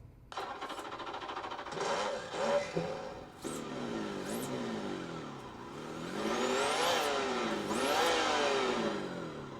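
A simulated car engine hum from a Meus Micro sound module in a mini RC car revs up and down in several rising and falling whines, moderately loud and fairly close, with mechanical whirring underneath.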